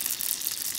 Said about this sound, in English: so we're gonna put our egg rolls into the pot so that it can fry